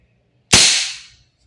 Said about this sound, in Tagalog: Okay, so semi-auto. Sige, yun pa rin. Putok lang natin ang isa.